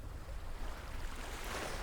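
Gentle ocean waves on the coast of Okinawa, Japan, a soft continuous wash of surf with some wind rumble, steady and moderately near with no voices.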